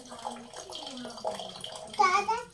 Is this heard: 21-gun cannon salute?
no